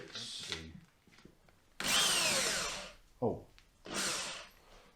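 Short bursts of a power drill whirring, two longer runs and a brief spin-up between them, with some rustling and handling noise around them, during a rebuild of a 1991 Range Rover.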